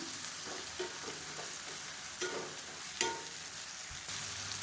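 Green plantain pieces roasting and being stirred in hot oil with tomato masala in a Madurai-style plantain stir-fry, giving a steady close sizzle broken by several scraping spatula strokes, with no talking.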